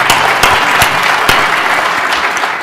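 Loud, close applause from a conference audience at a fireside chat, many hands clapping in a continuous rush with a few sharper individual claps popping out, no talking.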